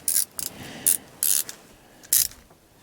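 Ratcheting wrench unscrewing a screw behind a car interior panel near the airbag, four short bursts of bright clicking in an irregular rhythm, close and moderately loud, with no talking.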